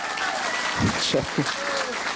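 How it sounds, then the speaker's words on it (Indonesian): Audience applause at an Indonesian religious lecture (tabligh akbar), a steady wash of clapping throughout with a voice speaking over it. "ibu-ibu nggak usah tepuk tangan, takbir saja ya"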